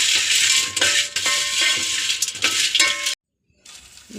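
Cardamom and whole spices dry-roasting in a pan for homemade garam masala, a close, steady crackling sizzle with occasional light clinks of stirring, then a short silence before the sizzle resumes.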